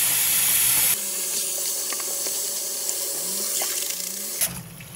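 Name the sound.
rinsing mushrooms under running tap water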